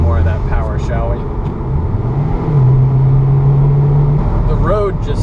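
A Mazdaspeed 3 turbocharged hatchback pulls hard under boost, its steady engine drone rising in pitch and then holding a strong sustained tone, with someone talking over the car throughout.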